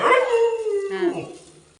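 A dog close by lets out a single drawn-out, wavering howl-like whine that rises and then tapers away over a couple of seconds.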